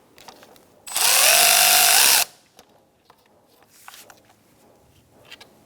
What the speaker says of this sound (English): Using a 10mm socket, we're going to take out these two bolts.